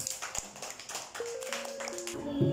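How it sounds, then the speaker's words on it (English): Second-grade children clap their hands in a classroom, a quick burst of light, scattered claps with other classroom sounds in the background. "Clap your hands for him."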